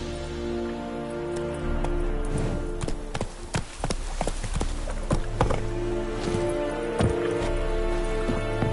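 Hooves of Roach, Geralt's horse in The Witcher 3: Wild Hunt, clop in an irregular, close rhythm of sharp taps on hard ground for several seconds, set over a low steady ambient hum.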